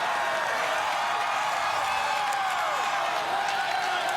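A crowd cheers at the American Ninja Warrior Oklahoma City qualifiers, a steady roar of distant cheering and whoops as a competitor plays to the audience.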